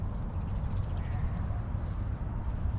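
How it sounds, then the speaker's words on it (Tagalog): Crows caw at an urban pond park in Dubai amid a dense, rumbling outdoor background, their calls faint and partly masked. "Kahit saan talaga tong uwak na to makalat."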